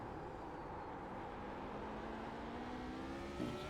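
A race car on the Rudskogen track accelerates with a steady, droning engine whine that rises gradually in pitch, heard faintly and continuously without talk.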